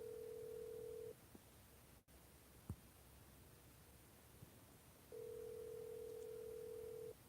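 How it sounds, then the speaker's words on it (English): A telephone gives two long steady ringing tones, one at the start and one near the end, separated by quiet hiss and a couple of small clicks, with no speech. "Your phone is ringing."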